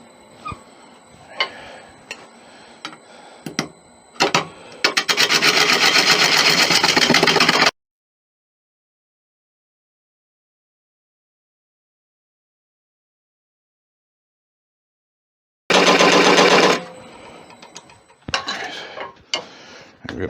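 A wood lathe resizing a tenon on a wood core gives a steady loud turning roar in two bursts separated by a long silence, with scattered ticks and knocks of tool and workpiece around them.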